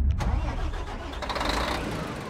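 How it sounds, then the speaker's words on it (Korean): A bus starting to back up in a parking area at a field trip site, its engine turning over and rising to a steady close rumble with a brief higher whine at the start. "버스가 주차를 하기 위해 후진을 시작했어요"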